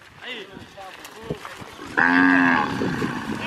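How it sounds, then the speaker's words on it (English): Cattle in the Pantanal wetlands give several close, drawn-out moos, with one long, loud bellow in the second half. Faint background noises sit between the calls. "Hello, cows."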